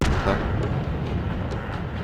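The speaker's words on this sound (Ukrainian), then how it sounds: "Бо у нас чудовий був постріл, контрбатарейна боротьба була." A deep booming artillery blast from a Bat.-Châtillon 155 58 or G.W. Panther self-propelled gun in World of Tanks, followed by a low rumbling decay and faint scattered thuds.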